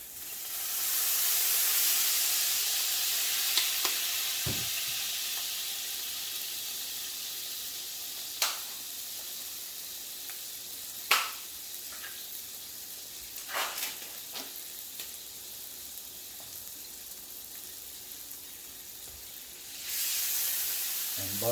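Beef sizzles and fries in a pan with oyster sauce, a constant loud hiss punctuated by sharp pops and crackles, without talk.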